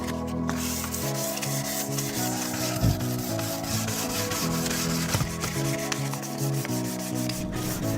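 Rhythmic rubbing of sandpaper on a wooden door, close and steady, with repeated scraping strokes over a low hum.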